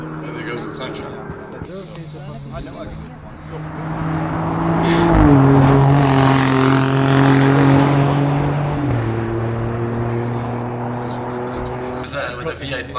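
V8-engined race car accelerating up a hill climb course, a loud sustained engine roar that swells as it nears, shifts gear several times and fades slightly, with a voice talking over it.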